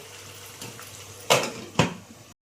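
Metal lid placed on a pot of simmering Andhra-style mutton spleen fry, two sharp clanks close by after a faint earlier clink, with a soft bubbling background.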